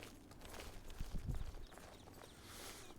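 Horse hoofbeats in the Elder Scrolls Oblivion video game, a short burst of low thudding steps in the middle of the clip over a steady game background, with no talking.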